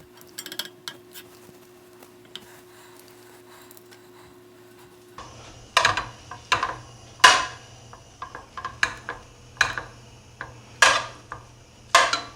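A baking tray of flaky biscuits goes into the oven after a quiet stretch with a faint hum, followed by a series of close metallic clanks, knocks and rattles at irregular intervals.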